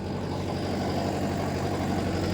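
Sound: Mahindra Yuva Tech Plus tractor engine running a rotavator

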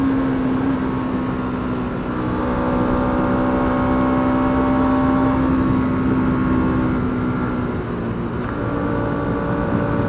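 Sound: Bajaj Dominar 200 motorcycle engine accelerating uphill

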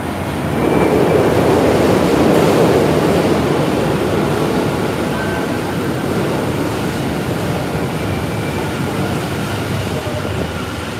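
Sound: Den-en-toshi line train at Futako Tamagawa Station, Tokyo

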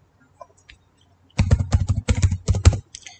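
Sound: typing a new router password on a computer keyboard

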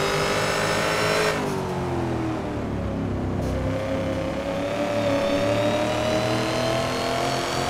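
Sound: Ford Mustang Boss 302 engine revving while drifting in Assetto Corsa video game

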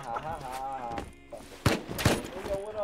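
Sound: gunfire in the video game Rust

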